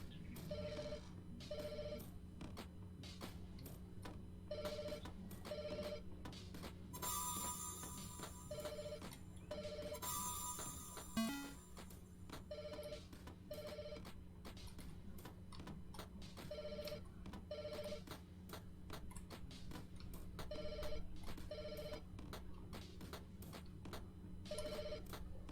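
Telephone ringing in the video game Lake Haven - Chrysalis: a repeating electronic ring in regular pairs of tones, fairly faint over a steady low hum, with a brief brighter jingle partway through and no speech.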